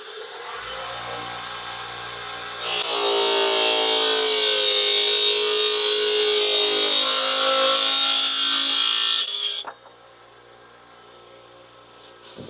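A power saw cuts pieces of wood down to length for homemade Cleveland wedges, a loud, steady high whine lasting several seconds before it drops off sharply to a quieter motor hum.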